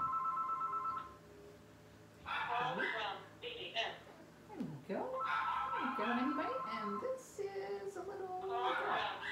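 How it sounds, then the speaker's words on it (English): A telephone rings indoors around a litter of puppies out of their whelping box: a steady electronic ring at the start, then people talk over faint background sounds while puppies squeak and whimper. "We're going to let that phone call go through."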